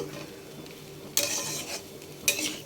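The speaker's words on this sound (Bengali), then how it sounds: "তো এবারে ভালো করে আমি মিশিয়ে নিয়েছি।" A spoon stirs and mixes a Bengali shukto curry in a pan over low sizzling, with two sharp scrapes or clinks against the pan standing out from a soft background hiss.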